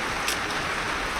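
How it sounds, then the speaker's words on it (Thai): Steady rain falling outdoors in Laos during the rainy season, an even broadband hiss of drops with no talk. "เนื่องจากว่าฝนตกบ่หยุด"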